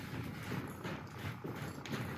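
Hooves of a horse walking forward in an arena, soft rhythmic clip-clop steps under steady background noise, fairly faint and continuous.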